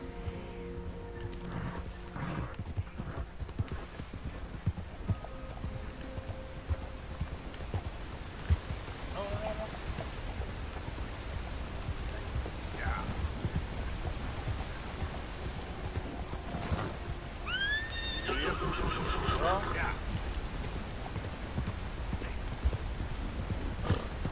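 Horse hooves clip-clop steadily at a gallop through Red Dead Redemption 2's rainy outdoors, with a brief neigh and light rain underneath, and someone talking over the ride.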